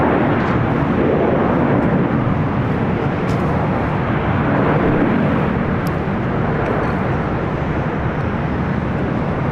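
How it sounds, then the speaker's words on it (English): A China Cargo Airlines Boeing 777 freighter, Flight 229 from Shenzhen, arrives at LAX, its jet engines a loud, steady broadband roar that fills the whole stretch without a break. "China Cargo Airlines Flight 229 coming in from Shenzhen. It's a 777 freighter we saw arrive or fly above us here."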